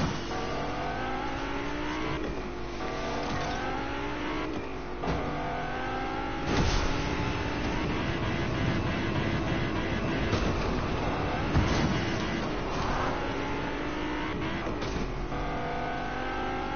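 A taxi driving fast in Fortnite: a steady engine drone with rising and falling revs as it accelerates, a few thuds and bumps along the way, loud and continuous without talk.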